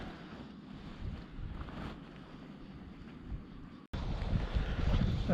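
Wind blows at a trout river, a faint, steady rumble buffeting the microphone, growing stronger and gustier after a brief dropout partway through.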